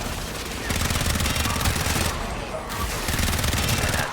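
Rapid pistol fire from the video game Warframe, dense bursts of shots layered over a busy combat soundscape with a brief lull midway.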